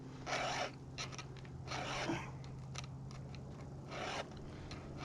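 A hand file rasping across chainsaw chain teeth out in the woods while bucking a big white oak, a few separate close gritty scraping strokes with quiet gaps in between.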